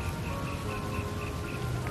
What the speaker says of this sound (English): It's starting to rain more.